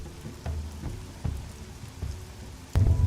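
Rain with a few low rumbles and thuds, ending in a louder rumbling burst, like a thunderstorm, with no talk.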